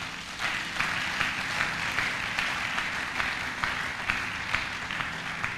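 Church congregation applauding during a worship service, steady dense clapping from many hands that fills the room, with no voices standing out.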